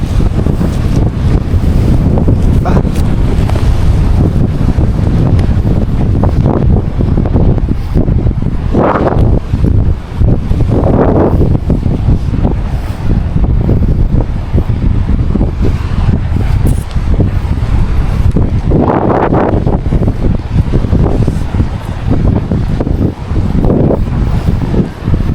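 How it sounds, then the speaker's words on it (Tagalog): Heavy sea waves surging and crashing close by at an island shore, mixed with strong wind buffeting the microphone, a continuous loud roar with periodic swells. "Lakas ng alon guys."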